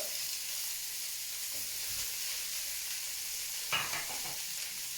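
Broccoli, white onion and red pepper stir-frying in a pan give a steady, fairly loud sizzle throughout, with a brief burst of stirring or tossing near the end.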